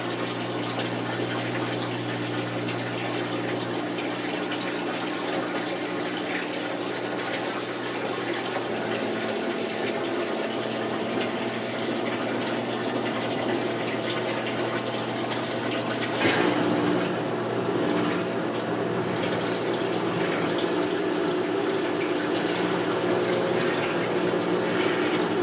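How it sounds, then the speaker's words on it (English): A Maytag commercial washer, model MVWP575G, drains its tub during self test mode, giving a steady, loud rush of pumped water with a low pump hum that shifts and surges partway through, with no talking. "This is the drain sequence. It'll drain until it detects an empty tub."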